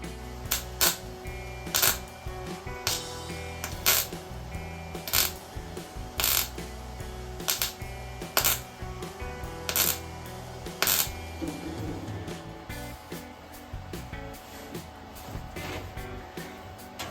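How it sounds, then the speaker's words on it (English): Welding over wire-wheeled, rusted-through holes in a 1969 C-10 truck produces a run of short, crackling bursts, each about a second long, with brief pauses between them, close and fairly even in loudness. "I wanted to video a little bit of this welding"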